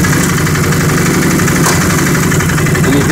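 A 2010 Can-Am 650 quad engine runs on a dyno during lean-condition testing, with a loud, steady, close mechanical drone and vibration throughout and no talk.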